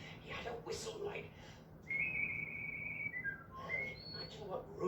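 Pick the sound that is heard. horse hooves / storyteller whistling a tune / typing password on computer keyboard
storyteller whistling a tune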